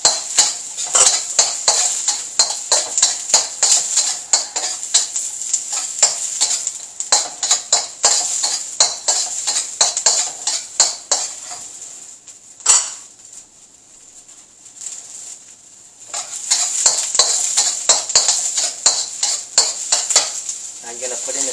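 Ginger, garlic and onion stir-fry in a pan with rapid, rhythmic metal scraping and clatter over a bright sizzle, pausing briefly midway before the brisk stirring resumes up close.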